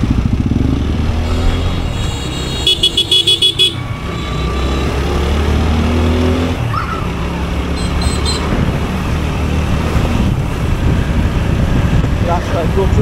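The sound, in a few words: motorcycle engine while riding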